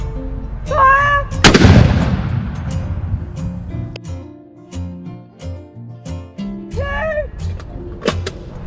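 A cannon fires on command with one heavy, booming blast, followed by rumbling echoes and scattered sharp knocks. A voice shouts orders before and after the shot.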